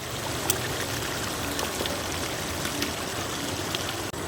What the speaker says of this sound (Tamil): மசாலா அரைச்ச தண்ணி ஊற்றிக்கிடுவோம்.